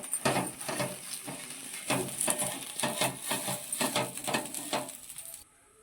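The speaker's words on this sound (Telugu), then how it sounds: "దీంతో అయితే ఆయిల్ రుద్దుకుంటున్నా" Oil is rubbed over a heated clay pan, giving a faint, rhythmic scraping and soft sizzle in repeated strokes that stop abruptly near the end.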